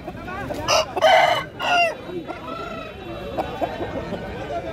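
An Aseel rooster at a poultry market near Bangalore gives a loud, close crow near the start, followed by softer clucking and market chatter.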